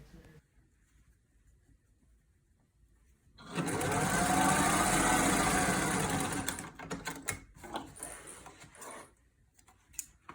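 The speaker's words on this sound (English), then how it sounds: "place your square on the sewing machine, and you're going to sew a 1/4 inch in" A sewing machine stitches a fabric square for a face mask, its motor whirring loud and steady for about three seconds and then breaking into short stop-start bursts. Before and after the run there is only a quiet room.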